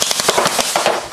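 A homemade Coke bottle Gatling gun fires compressed-air bottle shots in a quick burst of sharp, rapid pops, close and fairly loud.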